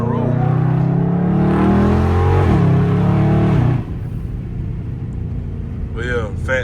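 A Dodge Scat Pack with a 550-horsepower engine accelerates hard at night, a loud, close, rising engine roar that cuts off abruptly and drops to a lower rumble, with brief voices near the end.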